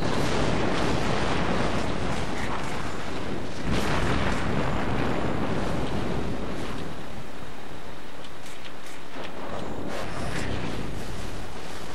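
Naval artillery fire in World of Warships from the battleship Tirpitz, heavy booming salvos and rumbling explosions over a continuous roar of wind and sea, loud and dense with no speech.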